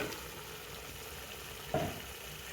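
Potatoes go into a pan of frying chicken and broccoli gravy, a steady sizzle throughout with a brief louder hiss and splash partway through as they drop in.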